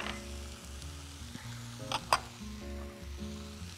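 Sweet potatoes fry and sizzle softly in butter with sugar while being stirred in a pan, with a quiet, steady crackle, a low background hum and a couple of brief scraping clinks.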